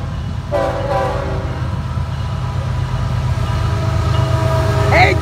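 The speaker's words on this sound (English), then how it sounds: "So this is FEC train 206" FEC freight train 206 with locomotive 803 leading rumbles past in Stuart, its horn blaring in short blasts early, then a steady loud roll of wheels and cars close by, with a voice briefly cheering near the end.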